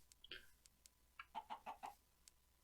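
Minecraft chickens cluck in a small enclosure, a few short clucks followed by a rhythmic run of four louder clucks close by, with no talking.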